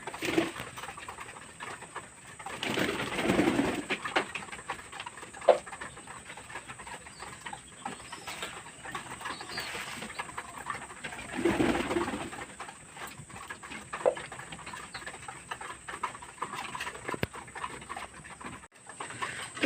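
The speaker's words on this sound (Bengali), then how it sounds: "আর এগুলো সব বাচ্চা পায়রা" Young pigeons coo in soft, repeated bursts over a steady background hum, with several low murmuring calls rising and fading close by.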